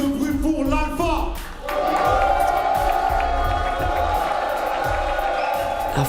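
A crowd at a rap battle cheers and shouts loudly, sustained whoops and yelling from a packed pit with a hosting voice over the top and a pounding low beat underneath.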